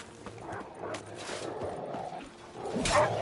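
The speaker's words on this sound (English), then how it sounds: "There's dogs there attacking a guy." Growling, barking dogs attack a man in The Witcher: Wild Hunt, a few yips and snarls over game ambience with a louder burst near the end.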